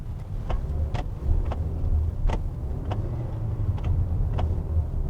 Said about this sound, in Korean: 지금 계속 풀 악셀을 밟으면서 주행을 하고 있는데